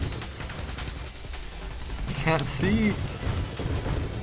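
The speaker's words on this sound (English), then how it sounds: "Too many explosions." Explosions and weapon fire in the space shooter video game Nova Drift crackle in dense bursts, swelling louder midway with a bright whooshing blast, while a player talks over the action.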